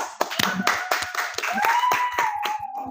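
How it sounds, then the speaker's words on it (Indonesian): A few people clap their hands in a small podcast studio, sharp irregular claps mixed with talking and laughter, close and fairly loud. "Tepuk tangan dulu."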